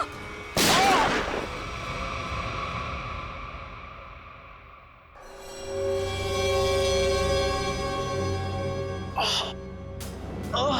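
Gunshots in a TV crime drama: a sharp, loud blast rings out early, followed by more bangs and reports later, with tense sounds between them.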